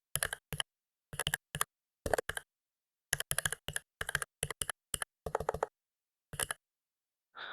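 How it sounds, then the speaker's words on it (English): Keys clatter on a computer keyboard while text is typed into a DaVinci Resolve template, coming in short close bursts of rapid clicks separated by brief pauses, with no talk over it. "I'm going to type some text."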